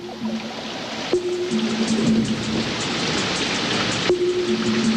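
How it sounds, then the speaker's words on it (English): Steady rain falls on the open savanna of a crater, a continuous close wash of drops with a low tonal hum running underneath. "Wildebeest, Grant's gazelle, lion, all soak in the cool rain."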